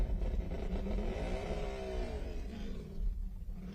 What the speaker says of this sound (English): if you couldn't hear, those V4s from F4 pretty loud